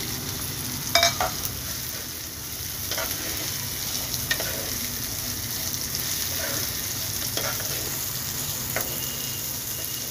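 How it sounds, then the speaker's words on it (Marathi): Sprouted moth beans with turmeric sautéing in a pan for a curry, giving a steady close sizzle with several sharp stirring scrapes and clinks spread through it. "मटकी छान परतून घ्यावी."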